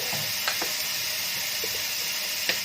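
Soy sauce splashing into a hot pan with a soft, continuous sizzle and hiss, plus a few faint clinks of stirring.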